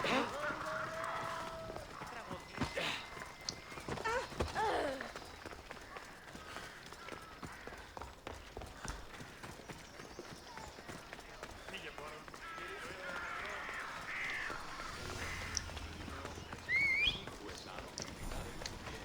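A horse's hooves clip-clopping over ground in Assassin's Creed Odyssey, a fast, continuous run of hoofbeats with occasional game sounds, under frequent talking.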